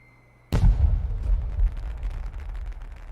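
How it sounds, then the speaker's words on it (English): Fireworks set off in honor of the dead in the video game Voice of Cards: The Beasts of Burden, a sudden loud boom followed by a long rumbling, crackling tail of bursts with no talk. "I should like to set off some fireworks then, in honor of the dead."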